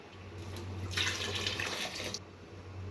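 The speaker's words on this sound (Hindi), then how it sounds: "अब हम इसमें यखनी डाल देंगे जो हमने सेपरेट करके रखी थी।" Beef yakhni broth is poured into a pot of fried rice for biryani, a loud splashing gush lasting over a second against a low steady hum.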